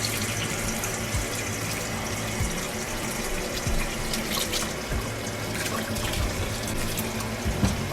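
Warm tap water gushes steadily into a sink to rinse sandy, salty preserved mustard greens, a close, continuous splashing stream with occasional knocks and handling noises.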